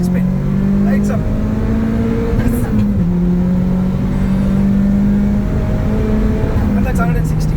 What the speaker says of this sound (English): Putting the foot down, third gear, 2000, then wheel spin, lights up.